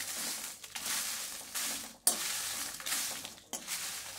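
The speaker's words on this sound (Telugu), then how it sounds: "ఒక కడాయి తీసుకొని దాంట్లో ఎండుమిరపకాయలు వేసేసి ఫ్రై చేయాలండి" Dried red chillies fry in a kadai, giving soft sizzling and stirring scrapes that come in repeated sweeps, with a sharp clink partway through.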